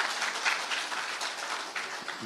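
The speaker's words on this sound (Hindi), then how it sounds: "जोरदार तालियों से तेजस्वी जी का स्वागत करिए" Dense, steady applause from an audience welcoming Tejashwi Yadav at a public interview event, a continuous wash of many hands clapping at even loudness with no voices over it.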